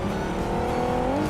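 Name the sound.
car approaching in a video game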